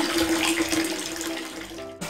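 Water pours steadily from a spout into a tilapia pond, a continuous splashing rush with a steady tonal hum beneath it. It is loud and close and cuts off abruptly near the end.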